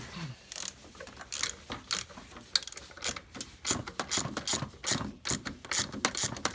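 Ratchet wrench working a bolt on a Honda Civic Si, a close run of quick, uneven clicking bursts with short pauses between strokes.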